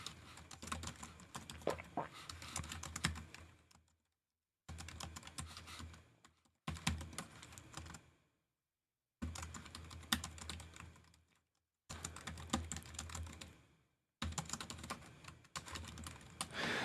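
Typing a message on a computer keyboard, quick soft clattering keystrokes in bursts of a few seconds separated by short silent pauses, close and quiet, with no talking.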